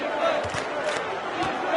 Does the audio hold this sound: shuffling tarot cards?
no